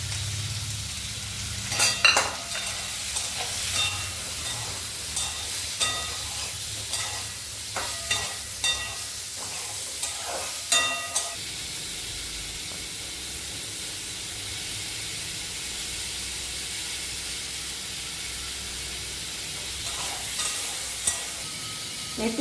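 Mango pieces fry in a pan with turmeric, salt and spices for chutney, giving a steady close sizzle broken by a series of sharp scraping stirs in the first half, then settling into an even hiss.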